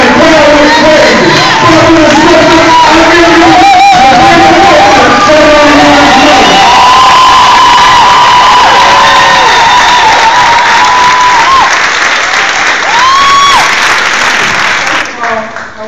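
A large crowd at a rally in East St. Louis, Illinois cheers, whoops and applauds loudly and continuously, with shouting voices mixed into the roar throughout.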